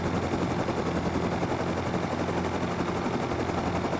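Heavy gun in the game Rust fires steadily at an NPC attack helicopter during island defence, a continuous dense roar of gunfire and rotor noise filling the whole stretch with no talk.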